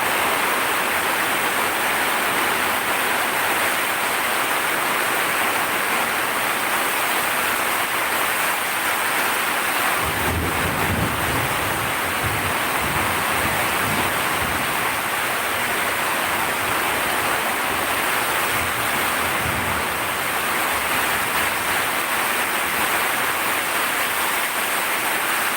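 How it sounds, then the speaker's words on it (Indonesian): Heavy rain pouring outside, a dense steady roar of downpour throughout, with a deeper low rumble swelling in the middle that fits distant thunder. "Di luar hujannya petir-petir"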